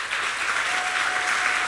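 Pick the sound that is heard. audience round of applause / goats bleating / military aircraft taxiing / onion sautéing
audience round of applause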